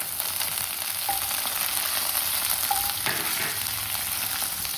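Garlic and green chili fry in a pan with a constant loud sizzling hiss, close up, broken by a few faint clinks of a utensil.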